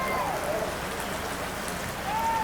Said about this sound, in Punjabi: ਬੜਾ ਮੀਂਹ ਆਇਆ ਜੀ